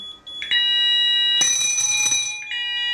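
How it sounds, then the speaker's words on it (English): Kentec Sigma XT fire alarm panel bell ringing loudly and steadily with harmonic tones, switching on and off in bursts as the bell is activated and deactivated. "You notice that I can activate and deactivate the bell, but not the sounder beacon."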